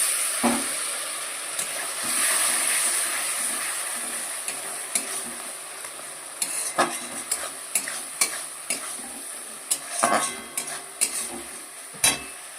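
Whole Kashmiri chilies and spices sizzle and fry in hot oil for an Amudi fish curry, a steady close sizzle broken by repeated scraping and clinking stirs of a spoon against the pan, with no talking.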